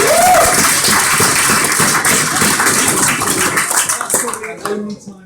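Wedding guests at a best man speech break into sustained applause, a dense wash of clapping that swells early and then tapers away near the end, with voices mixed in.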